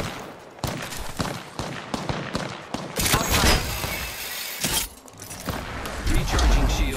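Rapid bursts of gunfire in the battle royale game Apex Legends, loud and close, crackling in dense volleys over ongoing in-game noise and voice lines.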